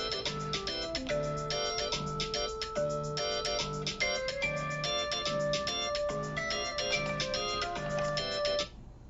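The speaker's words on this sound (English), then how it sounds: "Sorry, that's somebody calling on my phone." A mobile phone ringtone plays for an incoming call, a repeating melodic electronic pattern of bright tones that loops several times close by before cutting off abruptly, with no speech.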